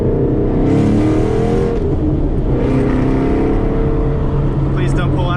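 A Ford Mustang GT 5.0 with a ghost cam and a Lund Racing tune revs loudly and up close, its engine roaring continuously with a choppy, lopey burble throughout.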